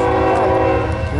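A CSX freight train passing a crossing in Fostoria, Ohio, with a loud, close, sustained blast of the horn's chord over the rumble of the rolling cars.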